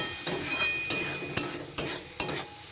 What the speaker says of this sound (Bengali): এটাকে আর একটুখানি নাড়াচাড়া করে ভালোভাবে মিক্স করে দিল